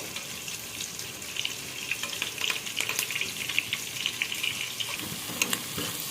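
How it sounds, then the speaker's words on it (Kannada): A tempering of curry leaves and onions sizzles in hot oil for natti-style green mutton chops. A steady, close frying hiss carries scattered crackles and pops, with no voices. "ಅಷ್ಟರಲ್ಲಿ ಮಟನ್ಗೆ ಒಗ್ಗರಣೆ ಹಾಕ್ಕೊಳ್ಳೋಣ."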